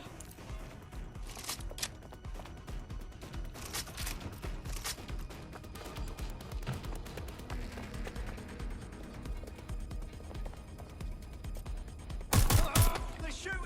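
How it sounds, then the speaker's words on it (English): Enemy gunfire in the video game Watch Dogs: Legion, scattered shots and bursts crackling through a busy mix of game sounds, with a loud close volley near the end and a voice talking over part of it. "They're shooting at us!"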